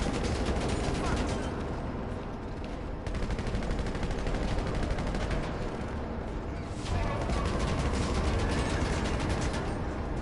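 Gunfire in GTA Online rattles on in a dense, continuous barrage of overlapping shots and booms, loud and steady throughout with only slight dips in intensity.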